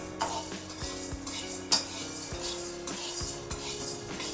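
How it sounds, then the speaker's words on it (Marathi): Sabudana being lightly dry-roasted in a pan, with a utensil scraping and stirring in irregular strokes, occasional metallic clinks and a faint sizzle underneath, close by with no talking. "आता साबुदाणा पण आपण हलकासा भाजून घेऊया"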